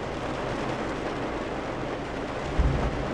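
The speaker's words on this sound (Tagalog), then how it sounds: "Ayan, ang lakas ng ulan." Heavy rain pours steadily in a dense, constant hiss, with a brief low thump near the end.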